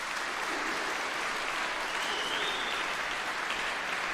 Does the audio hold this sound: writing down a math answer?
no